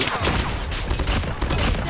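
Renetti pistol fired in Call of Duty Mobile, a dense burst of rapid shots with loud overlapping cracks filling the moment, mixed with game sounds.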